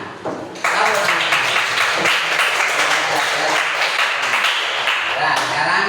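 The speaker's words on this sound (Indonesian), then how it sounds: "Tepuk tangan" Classroom applause from students in an Indonesian civics lesson, starting with a few claps and then quickly swelling into loud, dense clapping that continues steadily, with some voices mixed underneath.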